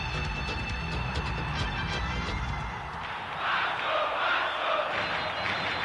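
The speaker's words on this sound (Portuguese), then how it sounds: "A torcida começa a comemorar." Football supporters of Cruzeiro celebrating a goal in a 3-0 win, a dense stadium roar of shouting and cheering that swells into a broad, loud wash after a few seconds, with no clear speech.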